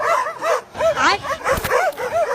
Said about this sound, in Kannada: ಅದೇ ಅನ್ಕಡೆ ಯಾರೋ ನಾಯಿ ಬೋಳ್ತೈತಲ್ಲ ಅಂತ.